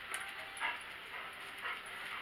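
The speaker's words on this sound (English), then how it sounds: "Our little Missy dog just came down to join us." Small pet dog whimpering and making soft yips, a few faint high whines over a steady hiss of room noise.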